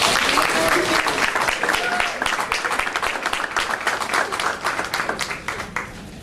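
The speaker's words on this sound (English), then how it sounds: "So a big round of applause for Denisha." At a high school athletes' signing ceremony, an audience gives a basketball player a round of applause, many hands clapping steadily, then thinning and fading toward the end, with a few voices underneath.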